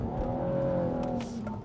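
A BMW M135i engine roars steadily at high revs while accelerating hard on a lap, a sustained loud drone with a faint swoosh near the end.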